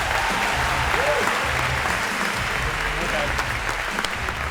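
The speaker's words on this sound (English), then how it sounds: "All right, a round of applause for Andrea if we could." Sustained, dense applause from a lecture hall audience for Andrea at the close of a CS50 computer science lecture, steady and loud throughout with no pauses.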